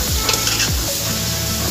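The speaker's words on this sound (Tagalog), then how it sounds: "Tapos sabay mag-prito na rin ng itlog." An egg fries in a pan beside chicken being sautéed, a steady close sizzle with a few stirring scrapes and clinks against the pan.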